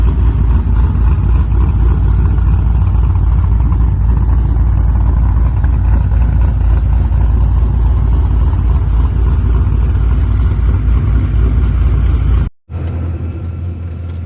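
A car engine runs with its throttle hanging partly open because the cable needs adjusting, a loud, steady, high-revving roar held for about twelve seconds before cutting abruptly to a lower idle.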